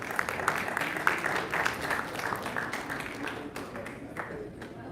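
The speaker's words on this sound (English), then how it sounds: "Give him a huge round of applause." A crowd claps together at a live stage event, producing a dense, steady wash of applause that fades slightly toward the end, with faint voices mixed in.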